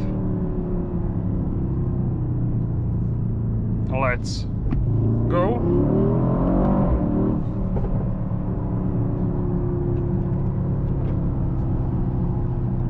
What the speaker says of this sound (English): you have this grunt from the engine